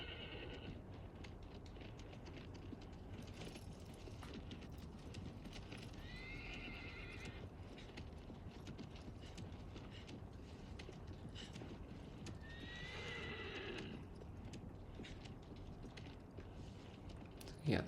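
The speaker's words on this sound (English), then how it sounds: "Oh, it is a horse." Horse from Shadow of the Colossus neighs in two clear bursts over steady clip-clopping hoofbeats, set against a constant game ambience with no talking.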